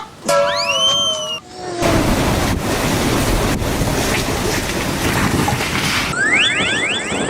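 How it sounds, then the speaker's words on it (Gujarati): Strong wind roars with crashing sea waves, loud and steady, after a brief opening of whistling tones; rising synthetic sweeps appear near the end. "ઓહ કેટલો પવન, કેવો વરસાદ. ઓલો દરિયો તો જો ઝૂમ ઝૂમ થાય છે."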